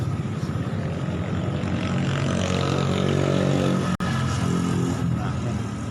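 A Honda Supra X 125 motorcycle with a faulty throttle position sensor runs close by at high revs. The engine sound is a steady, loud drone that holds its pitch, apart from one sharp dropout near the end.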